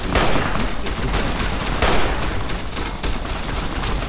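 Gunfire in Fallout: New Vegas, a dense, loud barrage of overlapping shots with bursts of heavier fire throughout, and no talking.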